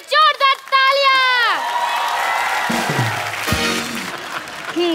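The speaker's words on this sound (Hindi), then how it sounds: "इन दोनों के लिए जोरदार तालियां।" A studio audience on a TV comedy show breaks into loud applause with some cheering. It follows a brief sung or voiced tone and continues steadily for several seconds.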